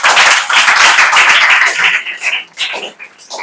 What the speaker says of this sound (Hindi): बिल्कुल सही आंसर है, जोरदार ताली बजा दीजिए